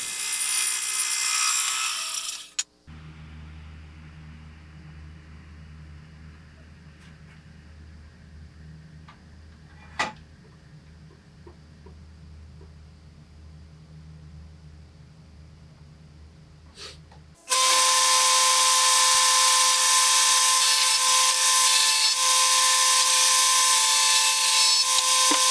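A bandsaw cuts ebony wood for custom side panels on a Denon DR-M44 cassette deck rebuild: a loud motor whine starts and stops, with a quieter low hum and a couple of sharp clicks between.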